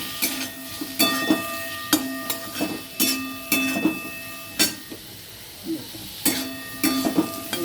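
Potatoes with turmeric stirred in a little hot oil for a Bengali fish curry, giving a steady close sizzle broken by repeated scraping strokes of the spatula against the pan.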